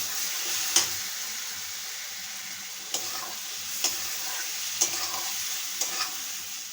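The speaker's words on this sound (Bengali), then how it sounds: "দিয়ে দিচ্ছি সামান্য একটু নারকেলের দুধ, এটাকে আমি ভালোভাবে কষিয়ে নেব।" Egg korma masala with a splash of coconut milk cooks in a pan, a soft low sizzle under regular scraping strokes of a spatula roughly once a second, close but quiet.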